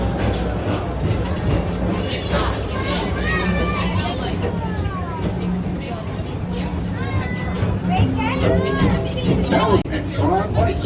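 The Tomorrowland express train at Magic Kingdom rolls along through a noisy ride with a steady rumble, under a busy mix of crowd chatter, narration and bright musical tones.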